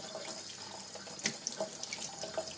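Tap water runs into a sink while Nanopresso coffee maker parts are rinsed, a steady close splashing hiss with small clinks and drips, no voices.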